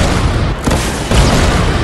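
Turret defenses blow up in a video game, loud booming blasts with a heavy burst near the end of a short, dense stretch of noise.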